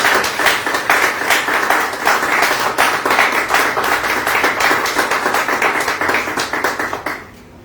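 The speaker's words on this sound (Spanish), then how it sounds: "Dale un fuerte aplauso al Señor." A church congregation claps loudly and close by in a fast, fairly rhythmic pattern, sustained for several seconds before stopping abruptly.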